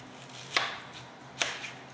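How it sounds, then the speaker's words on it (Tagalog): Knife slicing garlic, onion and fresh ginger on a board, two distinct crisp cuts about a second apart over a quiet kitchen background. "Slice tayo ng bawang sibuyas, ginger, fresh ginger"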